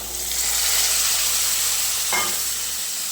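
Peas hitting hot oil in a pan for ghugni, a steady close frying sizzle with a short sharper scrape of stirring near the end, no voices.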